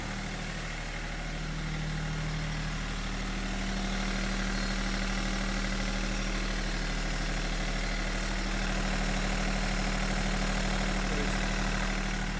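A Yanmar F-220 Japanese mini tractor engine idling steadily, a low constant diesel drone with an even hum, close and unbroken throughout with no talking.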